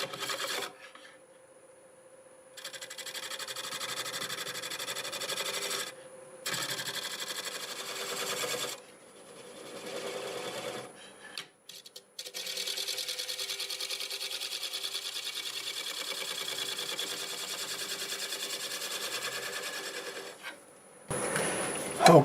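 Negative rake scraper riding over black walnut on a wood lathe at about 650 RPM, a steady rasping, scraping whir broken by short pauses as the tool lifts off, fairly close and without talk.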